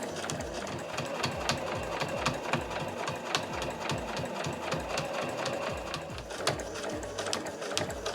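Home sewing machine stitching a quilted nubi tote bag, a steady mechanical whir with rapid needle ticks running continuously and fairly close, with no voices.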